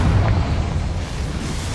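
A Confringo fire spell bursts in the Hogwarts Legacy video game, a loud, sustained rumbling blast with heavy low-end boom that holds steady for under two seconds.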